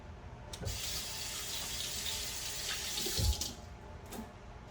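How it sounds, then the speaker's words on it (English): Hands being washed under a running kitchen tap, a steady close rush of water with a few splashy changes in flow as the hands move beneath it, no voices. "Let me wash my hands."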